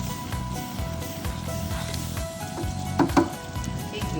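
Low-carb cabbage rice with shrimp bubbles and sizzles in a pan, a steady close crackle with a couple of brief clinks of a utensil against the pan.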